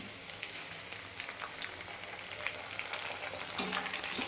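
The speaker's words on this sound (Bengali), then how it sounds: "এটাকে ভালো করে আমি এবার ভেজে নেবো পেঁয়াজটাকে।" Onions frying in a pan for a mushroom-and-pea curry give a steady close crackling sizzle throughout, with a brief clink of a utensil near the end.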